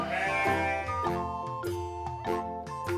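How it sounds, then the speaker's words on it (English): A sheep bleats in a children's alphabet song, a steady tonal call layered over music, loud and close. "S, S, S is for sheep."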